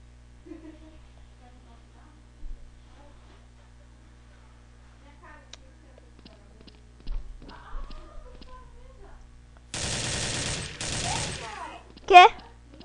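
Gunfire in a video game with the FAMAS and AK-47 in play: mostly quiet at first with faint scattered sounds, then a dense burst of automatic fire near the end followed by a louder sharp shot.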